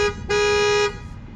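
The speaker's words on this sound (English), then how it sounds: "What I'm going to do is honk the horn here quick." A single loud horn blast from a 2026 Honda Odyssey EX-L, lasting about half a second, sounds close by, followed by quiet room noise.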